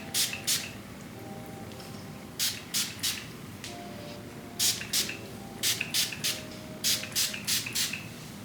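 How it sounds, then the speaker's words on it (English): Short hissing spritzes from a pump bottle of scalp care spray onto hair roots, in quick pairs and runs, close by, repeating over a quiet background. "I'm gonna use the Aromas Scalp Care Spray and just spray this all over"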